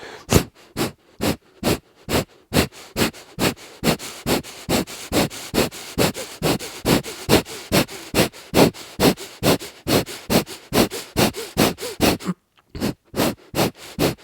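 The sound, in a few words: breath of fire yoga breathing through the nose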